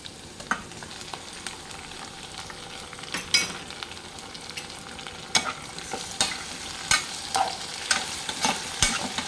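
Tomato pieces fry with browned onions in a pan, giving a soft continuous sizzle broken by irregular spatula scrapes and clacks against the pan. Close and fairly quiet, with no talking.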